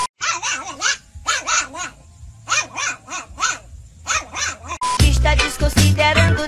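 A dog barks repeatedly in short clustered bursts, loud and close, near a police vehicle, followed by a louder, noisier stretch near the end.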